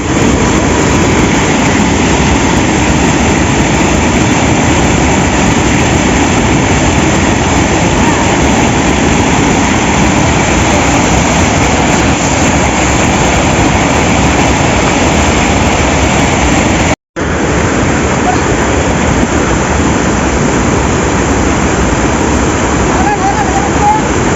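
Loud, continuous rushing water of a waterfall roars without a break, dense and close, filling the whole scene.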